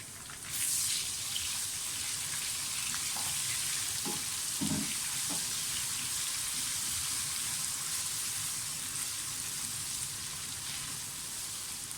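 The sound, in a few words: garlic ginger paste frying with whole spices and onions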